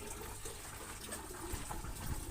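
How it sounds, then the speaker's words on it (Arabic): Bucket filling with water during water tank cleaning, a steady rushing gush at moderate distance, continuous and fairly quiet with no talk. "في ثانيه الجردل بتتملى يا جماعه"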